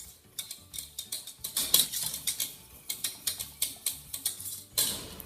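Whisking condensed milk with butter for fudge, a rhythmic series of close clicking, scraping strokes against a bowl, about two per second, with no talking.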